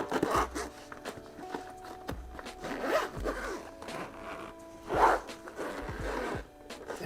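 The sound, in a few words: zipper closing a mechanic tool kit case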